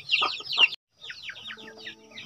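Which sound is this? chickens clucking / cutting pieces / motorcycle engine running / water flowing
chickens clucking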